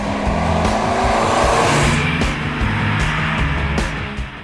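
A first-generation Volkswagen Golf GTI with its 110 horsepower engine drives past loudly, a steady close engine drone with rising and falling tone and a faint tyre note, no voices.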